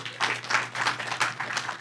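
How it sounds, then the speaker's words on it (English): A conference audience gives a short burst of applause, scattered clapping swelling in uneven waves over a low steady hum, moderately distant and fairly faint. "Give her a round of applause"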